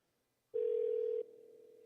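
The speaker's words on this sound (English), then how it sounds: "Oh, it's ringing." Phone call ringing out on a speakerphone: a single steady electronic tone that starts abruptly, holds for under a second at full level, then drops to a quieter sustained tone, alone with no talk.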